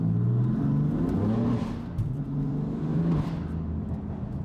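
A BMW F80 M3 with VRSF downpipes, a cold air intake and an Active Autowerkes midpipe pulls hard in second gear, its loud exhaust droning steadily and rising in pitch throughout without a break.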